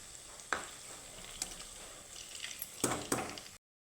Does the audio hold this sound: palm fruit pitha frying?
yes